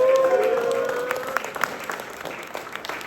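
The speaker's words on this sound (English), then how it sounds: "Round of applause for that" An audience at a Hip Hop Cultural Summit marking hip hop's 50th anniversary applauds for about three seconds, the clapping strongest at first and then thinning and fading, with a few tonal notes at the start.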